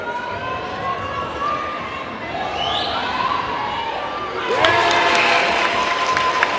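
A large crowd at a high school basketball playoff game between Roosevelt and Caddo Mills fills a gym with sustained roaring and cheering that swells louder near the end, while an announcer talks over it.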